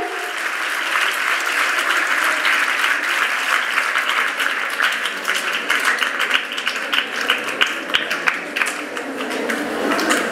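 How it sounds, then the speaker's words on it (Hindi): Loud, sustained applause from a school audience honours the chief guest at a Children's Day celebration at a girls' gurukul, with thick continuous clapping and sharper individual claps standing out, steady for the full length. "आप जोरदार तालियों के साथ सम्मान करें। आपकी तालियां रुकनी नहीं चाहिए।"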